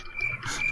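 A cricket chirping sound effect gives a brief, thin, high trill that lasts well under a second.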